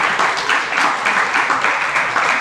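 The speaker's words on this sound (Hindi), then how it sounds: "ताली बजाओ ना।" Audience clapping during a Hindi religious discourse by a Jain monk, a dense, steady patter of many hands continuing throughout without a break.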